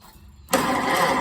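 A Farmall H tractor engine cranks and catches on the starter, a sudden loud burst after near-silence that settles into a steady, rough mechanical drone close by.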